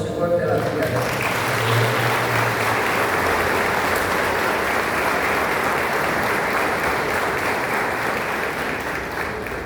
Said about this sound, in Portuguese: aplauda o Senhor pela vida